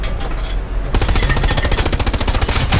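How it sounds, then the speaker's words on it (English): Video game gunfire: after a short quieter lead-in, a loud, rapid automatic weapon fires in an even, fast rhythm of closely spaced shots that runs to the end. "Shoot those guys up there!"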